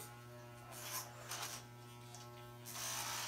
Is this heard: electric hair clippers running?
yes